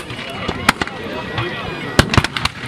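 Black powder artillery and infantry muskets fire at a Waterloo battle reenactment, sharp cracks and booms arriving in irregular bursts, several close together near the end, over a murmuring crowd.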